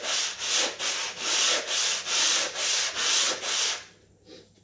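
Sanding wood by hand near a window sill area: eight steady back-and-forth rasping strokes in an even rhythm, close and loud, then the scraping stops and only a faint rub remains.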